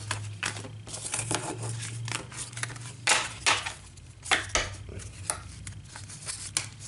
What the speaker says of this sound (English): So now I have to shuffle, which is a little hard with one hand.